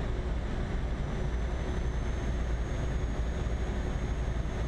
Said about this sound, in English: you hear the roar of the engine a lot better in this view